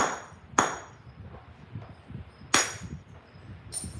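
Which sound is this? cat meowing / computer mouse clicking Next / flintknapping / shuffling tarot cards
flintknapping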